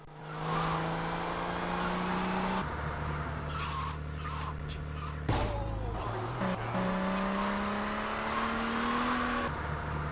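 A fast car tears along in GTA Vice City Stories while fleeing Mendez's men, its engine droning steadily with pitch rising and shifting through gear changes, plus brief tire screeches around the middle; no talking.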